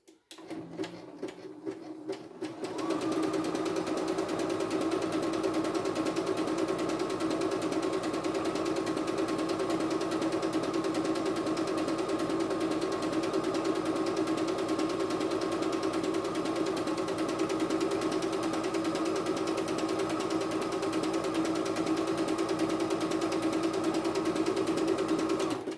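A CNY E960 multifunction embroidery machine starts after a few seconds of quiet handling noises, then stitches steadily with an even, rapid mechanical whir and tapping that continues unchanged to the end.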